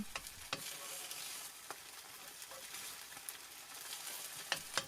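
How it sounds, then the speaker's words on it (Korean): Beaten egg mixture for kimbap fries in a lightly oiled pan, giving a quiet, steady sizzle with scattered crackles and a few faint utensil clicks, no talking. "달걀물을 골고루 펼쳐주시고요."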